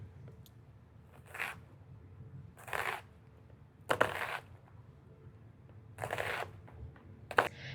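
Knife slicing an onion into long strips while making guacamole in a kitchen, heard as five crisp, spaced cuts against a board with quiet pauses between them.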